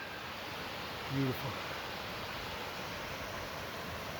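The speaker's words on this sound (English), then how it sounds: "there is a huge waterfall I hear coming from the end of the valley over here" A huge waterfall at the far end of a valley on the Pacific Crest Trail in Washington makes a steady, faint, distant rushing hiss, with one brief spoken word near the start.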